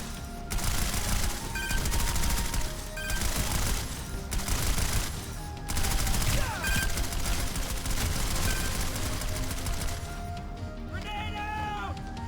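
Spitfire turret gunfire in Planetside 2, heard as a dense, sustained barrage of rapid automatic shots with crashing impacts over busy game noise, running loud throughout with brief lulls.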